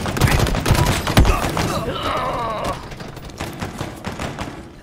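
Battle rifle fire in Halo Infinite, a dense rapid fusillade of loud, close shots with thumping impacts, fading into quieter game noise after the burst.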